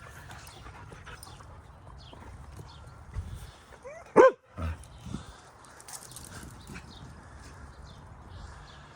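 During a game of fetch with a ball, a dog gives one sharp bark, followed by a couple of softer gruff sounds, against quiet outdoor background noise.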